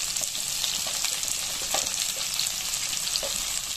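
Spice paste with salt and turmeric fries in a pan for a mourola fish curry with potato and eggplant. A steady, loud sizzle continues throughout, broken by light scrapes and clinks of stirring, with no one talking.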